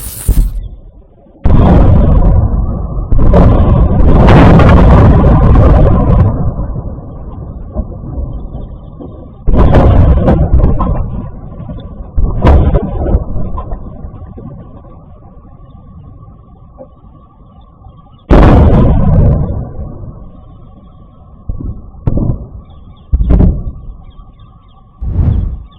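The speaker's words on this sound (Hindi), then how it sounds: "जो मिसाइलें दागी थी ईरान ने, वो जब गिरी हैं तो गिरने वाला मंजर भी मैं आपको जरूर दिखाऊंगा" Iranian missiles striking targets in Israel: heavy, booming impact explosions with long rumbling tails, several bursts over the stretch, some loud and close, others more distant, with whooshing and crackling debris between blasts.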